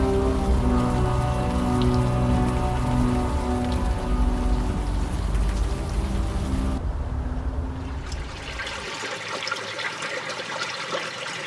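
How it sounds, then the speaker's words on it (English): Steady rain falls in the video game Unavowed, a dense, even patter throughout, with sustained musical tones layered over it for the first several seconds before fading to rain alone. "At least the rain is washing away most of the smell."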